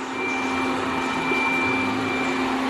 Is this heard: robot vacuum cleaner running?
yes